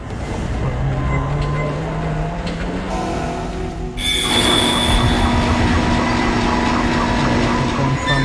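Damaged tram car in the Dead Space video game, a low mechanical rumble with a tonal hum that jumps into louder rolling rail noise partway through, with squealing wheels and clattering continuing to the end.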